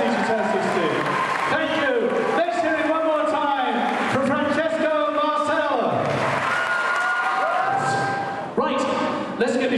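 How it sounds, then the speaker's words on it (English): An audience at a local talent show finals claps steadily, a broad wash of applause mixed with a voice speaking over it and some crowd noise. "Turned 16, give a round of applause."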